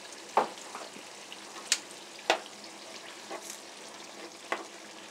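A spoon mixing canned food into a pan, with a few sharp scrapes and clacks spaced over several seconds above a low, steady sizzling background.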